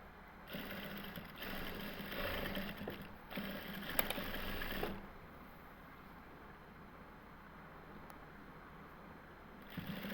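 Sewing machine double-stitching lace onto the side slits of a shirt, a steady mechanical whirr running in bursts of a few seconds with brief pauses, then a quieter continuous hum, close up with no talking.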